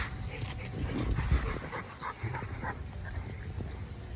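Several dogs outdoors yip, whimper and bark in short bursts, fairly close, mixed with panting and rustling movement, with no talk.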